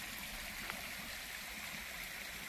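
A stream of water flowing beside a hiking trail, a steady close hiss and gurgle of running water, unbroken and even throughout with no voices.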